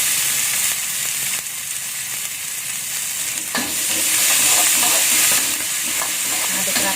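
Red chili, garlic and bell pepper sizzle steadily as they are stirred and fried in a pan for a sweet-spicy tempeh stir-fry, with a continuous close hiss and soft scraping from the stirring and no talk.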